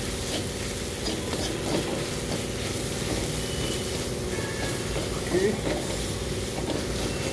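Spices and coriander powder sizzle steadily in a hot pan for tomato dal, a constant close frying hiss with light stirring and faint talk underneath.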